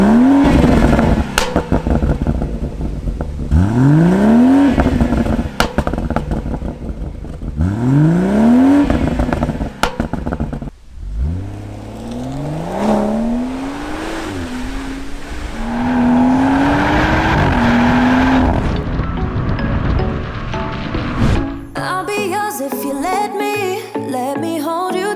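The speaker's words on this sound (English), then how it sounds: "So this is a standard exhaust." BMW M140i with its standard stock exhaust revving repeatedly, each rev a rising engine pitch that drops back, loud and close, followed by longer sweeping revs before the sound cuts to music at the end.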